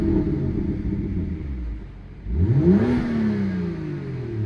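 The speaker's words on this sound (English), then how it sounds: "Listen to the exhaust now." A BMW M2's exhaust rises as the engine is revved toward about 4000 RPM in traction mode, a steady rumble swelling into a loud, climbing drone that holds to the end with no talk.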